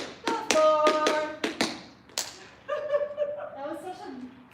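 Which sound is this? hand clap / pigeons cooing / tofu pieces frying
hand clap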